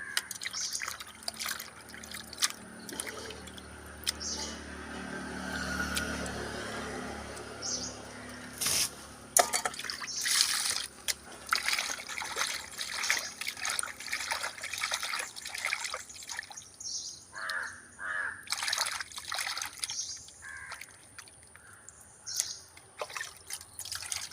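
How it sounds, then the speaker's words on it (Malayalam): Fresh sardines are washed by hand under running water, with splashing, trickling and dripping close by, irregular handling sounds and bursts of flow, without any talk. "അപ്പം നമുക്ക് മത്തി വൃത്തി കഴുകാം ഫ്രഷ് മത്തിയാണ് കേട്ടോ"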